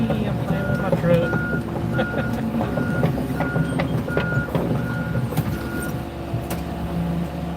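Truck reversing beeps repeat steadily at a car crusher yard, a regular series of mid-pitched tones over constant diesel engine rumble and machinery noise, with faint voices in the background.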